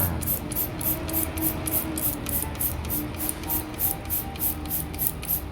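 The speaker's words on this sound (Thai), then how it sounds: "ฉีดไปนะคะ เรื่อย ๆ ให้มันให้เขาครบ โดนทุกใบครอบคลุม น้องใบบัวบกทั้งหมด" A hand sprayer mists fish fertilizer solution onto pennywort leaves in a balcony garden, giving rhythmic, evenly spaced hissing puffs that sound close and fairly quiet.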